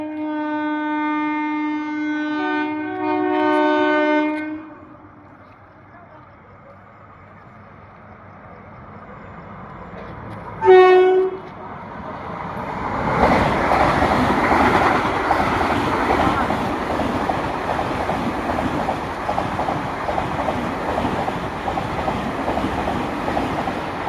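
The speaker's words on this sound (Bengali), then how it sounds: "দেখুন বন্ধুরা, আপনারা দেখতে পাচ্ছেন বন্দে ভারত এক্সপ্রেস ঢুকছে।" A Vande Bharat Express sleeper train pulls into Miyagram station, first sounding a long multi-tone horn, then another short horn blast, followed by the rising rumble and rhythmic clatter of the coaches rolling past close by.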